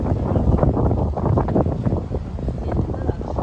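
Steady wind buffeting the microphone, a low rumbling roar that fills the whole stretch without pause.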